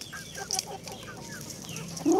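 A native hulu rooster mingles with Sasso hens on a farm, giving soft, scattered clucks and short calls at close range amid light background bird chatter.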